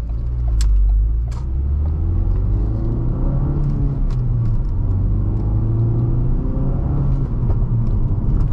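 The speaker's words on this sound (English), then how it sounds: "It did a pop between the gears." A Ford Focus RS driven in sport mode gives a loud, continuous engine and road rumble from inside the car, with a couple of brief sharp pops or crackles early on.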